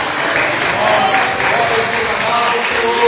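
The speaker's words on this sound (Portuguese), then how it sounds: "dê um aplauso à palavra do Senhor" A church congregation breaks into applause during a Wednesday evening worship service, a dense, steady wash of clapping that stays loud and close throughout.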